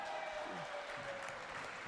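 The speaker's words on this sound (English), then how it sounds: "the crowd appreciating that" A wrestling crowd applauds after an impressive move in a match, a faint, brief burst of clapping heard at a distance with a commentator talking over it.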